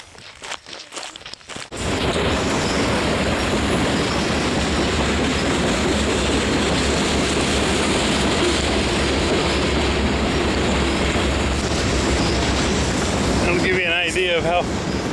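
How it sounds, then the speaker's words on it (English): A train rolls past on railroad tracks right beside a hiking trail, a loud, close, sustained rumble with clickety-clack after a rustling start, and a short voice near the end. "the trail eventually winds down to the railroad tracks where you're next to the train"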